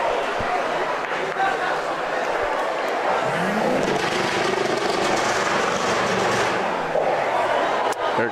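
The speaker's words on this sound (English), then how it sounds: "There goes a cool guy on a motorcycle, if anybody's wondering what that noise was." A motorcycle passes near an outdoor bocce tournament, its engine note rising and falling as it goes by, heard beneath continuous talk and background chatter.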